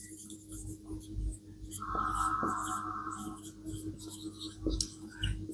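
Pen scratching on paper during a Hindi-medium English grammar lesson on pronouns, steady soft strokes with a few sharper ticks, close and quiet, no voice.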